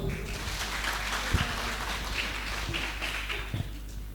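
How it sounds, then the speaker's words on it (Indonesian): A gathering breaks into applause, a continuous patter of clapping with a few sharp, louder claps and thumps standing out near the middle and end. "Tepuk tangan dulu dong."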